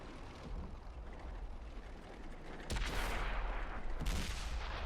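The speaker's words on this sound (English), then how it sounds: "And another shot into the sandbank." Heavy booming cannon fire from a T-44 tank in World of Tanks on Xbox 360, two loud blasts a second or so apart over a continuous rumbling battle ambience.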